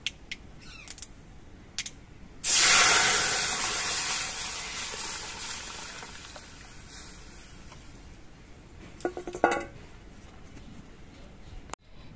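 A loud burst of sizzling hiss erupts suddenly as dal is poured into hot oil with fried mustard seeds, then gradually settles into a steady frying crackle, with a few clatters near the end.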